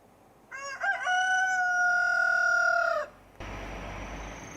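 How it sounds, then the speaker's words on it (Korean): Recorded rooster crowing, a single long cock-a-doodle-doo played back clearly and loudly, followed by a short burst of hiss. "닭이었어요."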